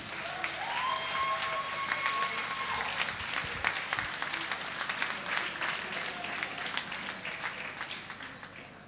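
An audience at a negotiation-contest final and award ceremony in Issoudun claps steadily and fairly loudly, a dense, continuous round of applause that slowly thins toward the end.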